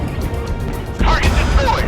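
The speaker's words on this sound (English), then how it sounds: "Fire on command! That's a hit!" Naval gunfire striking a target in the warship video game Force of Warships: a low, muffled impact arrives about a second in, after a steady rumbling background, with scattered crackling debris following under a game voice.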